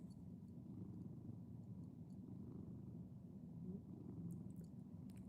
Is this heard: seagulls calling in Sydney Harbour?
no